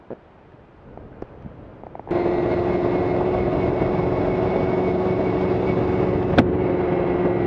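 A Kawasaki ZX-2R / ZXR250 motorcycle ridden on a road around Hobart: after a quieter, breathy start, a loud, steady engine drone with a strong tonal whine sets in abruptly and holds, with a brief sharp click near the end.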